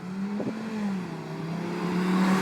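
A modified car with its resonator deleted drives past, its steady engine drone rising slightly in pitch and loudness as it approaches, fairly quiet and smooth rather than roaring.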